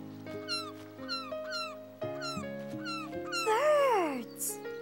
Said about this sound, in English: They're seagulls.